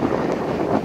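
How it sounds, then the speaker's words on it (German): Strong headwind buffeting a microphone on a bike ride along the Römer-Lippe route near Bad Sassendorf, a loud, steady low roar with rough gusty fluctuations and nothing else over it. "In die Richtung geht es jetzt weiter, immer gegen den Wind."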